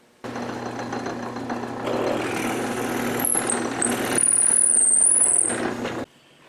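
A lathe drills out a pre-drilled center hole to 5/16 inch for an arrow shaft cutter, giving a steady loud mechanical drone that builds slightly, with a thin high squeal near the end before cutting off.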